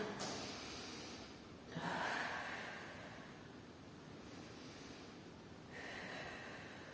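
Deep breaths during a Pilates postural correction exercise come as two or three long, airy inhales and exhales, quiet and close, with no talking over them.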